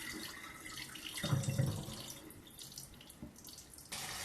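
A water tap runs into a bowl being filled to soak jackfruit, a steady close splashing rush that swells briefly as the flow hits the water, continuing throughout.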